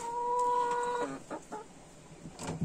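Laying hens clucking around an automatic egg nest on a small farm, with a steady close cackle, then shorter clucks and squawks that come and go, and no voices.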